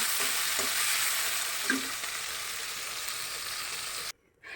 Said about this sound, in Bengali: সেটাই হোক আমার মাছটাকে নাড়াচাড়া দিয়ে